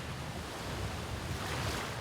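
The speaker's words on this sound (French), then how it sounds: "Lorsque le vent fait rouler les vagues et rafraîchit l'air" Waves rolling in on a white quartz sand beach at Pearl Beach, a steady wash of surf with wind noise against the microphone, continuous and even, with no voices.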